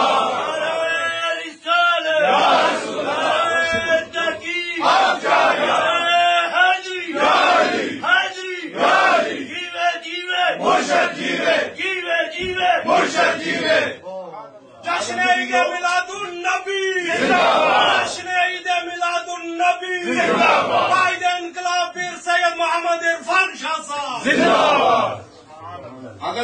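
A large religious gathering shouts takbir in answer to a call, many voices roaring together in loud, rhythmic chanted bursts that swell and repeat with only brief gaps, filling the space for the whole stretch.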